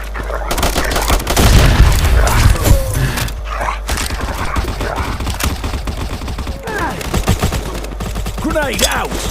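A grenade blast and gunfire in the Modern Ops shooter game at a construction site: a heavy low boom early on, then rapid rattling bursts of shots continuing under shouted voice callouts.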